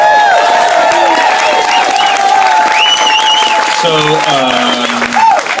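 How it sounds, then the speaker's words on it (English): Audience at a live show applauding for a performer named Bob, a sustained loud round of clapping with cheers and whoops, while a voice talks over it near the end. "How about a big round of applause for Bob?"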